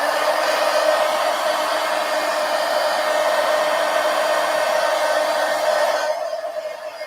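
A hair dryer blows steadily and close up, drying paint on a mixed media artwork, a continuous whooshing hiss that cuts off and fades near the end.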